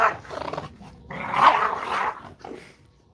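Dogs growl and snarl at close range in short rough bursts, with a louder flurry in the middle and a brief yip near the end.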